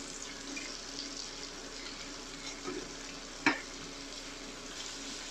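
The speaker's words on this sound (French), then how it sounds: "j'ai mis mes tranches de lard fumé, je vais les faire revenir tout doucement" Smoked bacon slices frying gently in butter in a pan, a soft steady sizzle close by with one short sharp click partway through, no voices.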